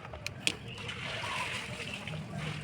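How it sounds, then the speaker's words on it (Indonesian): Water gushes and splashes steadily out of a 4-inch Paralon PVC pipe water filter as the outlet is opened, a continuous close rushing flow with a couple of sharp clicks near the start. "ini air akan keluar ya, seperti itu"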